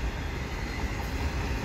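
CP freight train with three engines passing near the Des Sources ramps bridge by Dorval, a loud, steady rumble of rolling cars with a deep low roar and no break, no voices heard.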